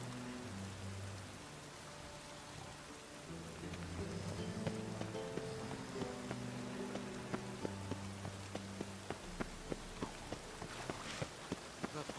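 Rain falls in The Witcher 3, a steady soft hiss of drops under low game music and ambient tones, joined later by faint rhythmic footsteps, with no talking.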